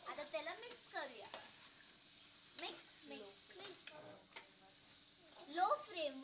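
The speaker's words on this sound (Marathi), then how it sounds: "आता हे बघा, वटाणे टाकले, आता त्याला मिक्स करूया।" Peas stirred into sizzling masala over a low flame, a quiet continuous sizzle with scraping stirs while a voice and other talk chatter over it.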